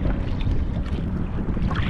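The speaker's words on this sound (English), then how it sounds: "The wind is horrendous." Strong, horrendous wind blowing over open water while out fishing from a boat, a steady loud roaring rumble buffeting the microphone throughout, with no talking.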